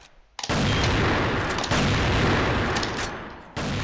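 Dense, sustained bursts of gunfire from a CrossFire match, loud and continuous with overlapping shots and booms, starting abruptly after a brief quiet moment and dropping slightly near the end.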